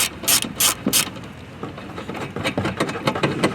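Torx T27 factory screws being backed out of trim on a 2019-2023 Alfa Romeo Giulia, a close run of quick ratcheting clicks that comes in bursts and then settles into a lighter, steady clicking.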